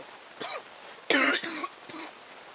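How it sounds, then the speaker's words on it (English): Several coughs, one short cough, then a louder burst of two or three harsh coughs close by, with a softer one trailing after a pause. "sorry, got a cough"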